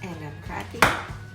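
An egg is cracked for a corn soufflé, heard as a single sharp, close crack against a hard edge within a quiet kitchen background.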